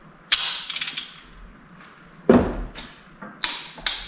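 A ratchet wrench tightening a nut on a Chevy 350 engine during a budget rebuild: short bursts of quick metallic clicking, several separate pulls with pauses between, close and crisp.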